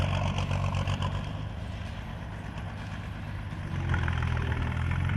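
Diesel engine of a four-wheel-drive armoured combat vehicle, about 300 horsepower, running steadily with a deep low rumble that swells louder near the end as the vehicle moves on.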